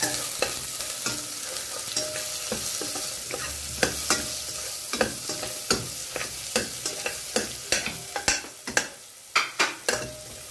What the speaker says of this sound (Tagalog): Haluin lang yung onion at saka garlic. Tapos yung butter. Lagay ko na yung butter.